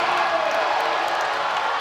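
An arena crowd cheers after a log press lift at a strongwoman contest, a steady roar of cheering and whooping that holds at full loudness throughout the moment.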